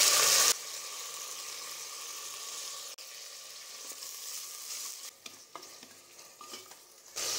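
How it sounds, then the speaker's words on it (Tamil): Chopped onion and tomatoes sauté in a hot pan with a little salt for a moong dal vegetable masala kichadi, a steady close sizzle broken by scraping stirs of a spoon, with no talk. "இதையும் சேர்த்து நல்லா வதக்கி விட்டுக்கலாம்."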